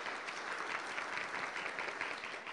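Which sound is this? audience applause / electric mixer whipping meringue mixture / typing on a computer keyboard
audience applause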